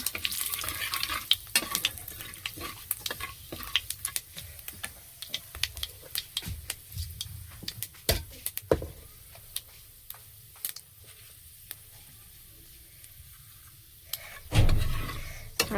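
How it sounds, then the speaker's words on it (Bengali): Panch phoron whole spices fry for tempering in a pan, giving a faint sizzle full of sharp, irregular crackling pops and stirring clicks. The pops thin out partway through, and a louder clatter comes near the end. "ফোড়নটা একটু ভালো করে ভেজে নেব।"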